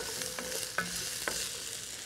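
Onions frying in a cast iron pan give a soft, steady sizzle, with a few faint clicks of stirring, fairly quiet and with no voices.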